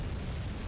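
A cannon blast in Bloodborne The Old Hunters erupts as a single loud, rumbling explosion filling the brief moment, no voices.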